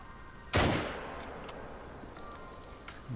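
Single loud rifle shot fired at a sika deer in a hunting video game, a sharp crack with a short decaying tail, then quiet ambience.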